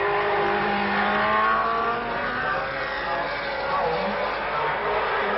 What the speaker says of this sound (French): tandis que Jackie Stewart effectue son premier passage devant les tribunes